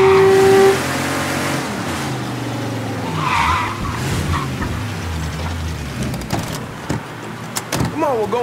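Car skidding with squealing tires in the Mafia 3 video game, a loud sustained screech with engine roar and music, followed by thumps and clattering impacts.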